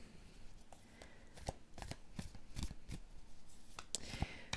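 Tarot cards shuffled close up in a quiet room, a run of crisp papery riffles and slaps in uneven bursts, with no talking.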